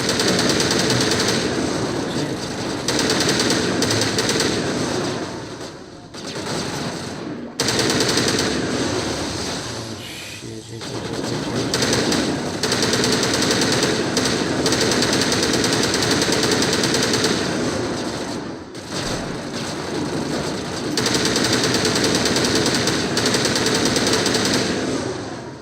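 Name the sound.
gunfire in a Mass Effect video game battle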